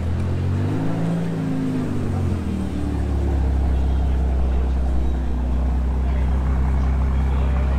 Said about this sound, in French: Alors ici, superbe voiture également. DBS Superleggera.